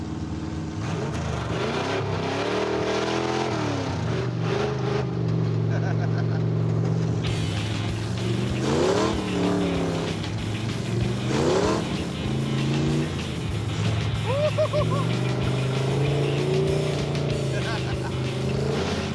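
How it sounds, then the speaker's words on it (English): Car driven hard off-road on dirt, its engine droning loud and close throughout, with the pitch swooping up and down through repeated revving and shifting. "I like driving this car off-road a lot"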